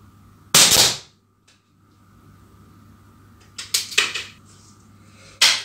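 Pistol shots are fired at a target during a comparison of supported and unsupported shooting, heard as a sharp loud crack, a cluster of quicker reports later, and another crack at the end, separated by quiet.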